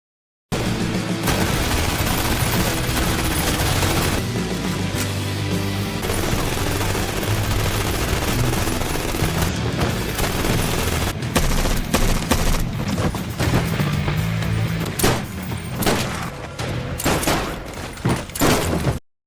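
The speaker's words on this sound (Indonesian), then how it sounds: "penjaga lainnya mulai berdatangan dan terjadilah baku tembak" Gunfight at a palace in a film, with guards firing: sustained loud volleys of rapid gunfire and booms over a dense, continuous action soundtrack, intensifying toward the end.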